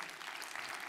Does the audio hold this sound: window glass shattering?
no